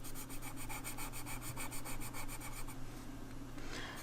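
Colored pencil rubbing across swatch paper in steady back-and-forth strokes, a close, soft scratchy rasp that repeats rhythmically before easing off near the end.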